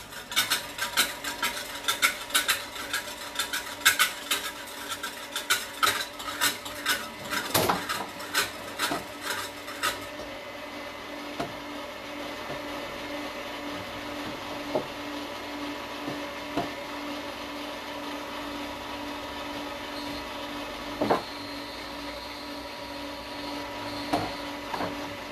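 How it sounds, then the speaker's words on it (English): An electric mixer whipping egg whites for fortune cookie and pizzelle batter: a steady mechanical whir that holds even throughout, with rattling, clattering strokes early on and occasional soft knocks later. "So I'm going to go ahead and turn on my mixer."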